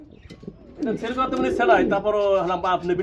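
A male pigeon coos close by, low throaty calls rising and rolling, heard alongside a person talking.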